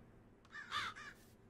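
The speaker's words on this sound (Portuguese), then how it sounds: "Um corvo!" A crow caws in the Minecraft video game, a short run of three or four harsh calls, clear and moderately loud over a low steady background.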